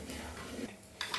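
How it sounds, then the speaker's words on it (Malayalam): A spoon stirs chilli powder and turmeric into a rose apple (chamba) pickle, giving quiet scraping at first and then a couple of faint, close metallic clinks against the dish near the end. "ഇളക്കി കൊടുക്കാം."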